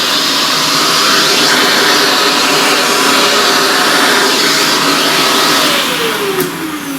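A vacuum cleaner running steadily and loudly at close range while cleaning up pastel dust, a sustained whining motor hum that shifts slightly in pitch near the end.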